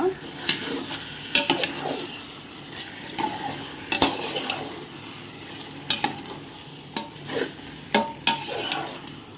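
Marinated chicken and onions frying in a kadai for Ambur chicken biryani, a constant sizzle punctuated by frequent clattering spoon strikes and scrapes against the metal pan, close by and without talk.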